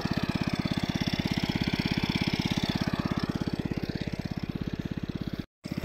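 An irrigation pump engine watering a paddy field thumps steadily in a fast, regular putter, close and loud, running continuously with a brief dropout near the end.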